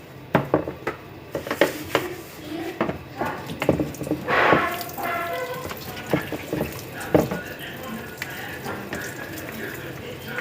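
Dishes being washed at a kitchen sink: plates and cutlery clink and clatter in irregular knocks over running tap water, close and fairly loud.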